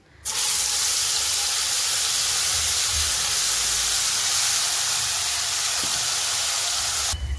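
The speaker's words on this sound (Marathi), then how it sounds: "तर बघा वाटण टाकलं होतं मी याच्यामध्ये तेलामध्ये थोडंसं आपण छान असं की तेल सुटेपर्यंत फ्राय करणार आहे" Ground masala paste hitting hot oil for a brinjal curry, bursting into a loud, steady, hissing sizzle that starts abruptly and holds evenly for several seconds before cutting off.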